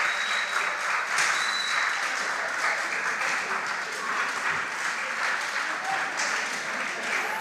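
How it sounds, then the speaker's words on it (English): Sustained applause from an audience at a junior high school competition, a continuous wash of clapping that holds steady for several seconds. "Please give them a round of applause."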